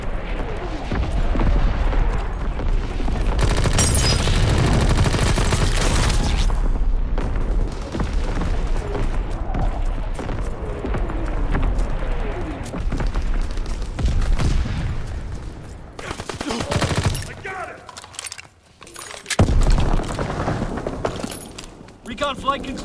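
Artillery barrage in Call of Duty: WWII, the Gibraltar map: heavy explosions and rolling booms crash in repeated loud bursts over a steady battle din, with voices talking throughout.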